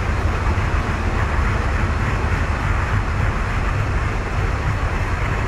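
A freight train in the Train Fever video game builds speed with a steady, loud rumble of wheels and engine. The noise is continuous and dense, and no voices are heard.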